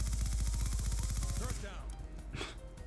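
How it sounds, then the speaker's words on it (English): Rapid automatic gunfire from a Skorpion EVO in the video game Black Ops 2 Search and Destroy, a dense burst of shots that stops midway, followed by quieter game sounds. "You don't need to keep firing."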